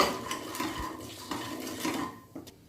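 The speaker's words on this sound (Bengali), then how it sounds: "মশলাগুলোকে জাস্ট তিরিশ সেকেন্ড মতো আমি হালকা করে ভেজে নিচ্ছি" Spices lightly fried with salt in a pan over a low flame, heard as soft clinks and scrapes of a utensil stirring against the pan, in irregular bursts with a faint sizzle beneath, no voices.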